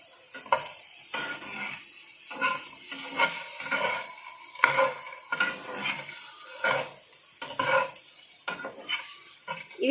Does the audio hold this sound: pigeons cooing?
no